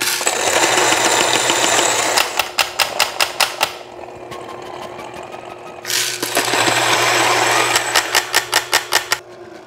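A Fellow Ode coffee grinder with Gen 2 burrs set fine at 4 runs in two loud, close bursts of steady whirring and grinding, each ending with a rapid series of rhythmic clacks as the grinding winds down.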